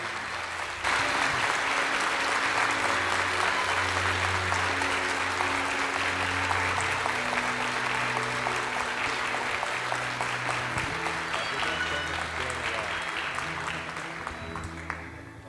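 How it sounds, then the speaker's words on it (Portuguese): Warm, sustained applause from a room full of people, steady for well over ten seconds and tapering slightly at the end. "nós poderíamos dar a eles uma calorosa salva de palmas"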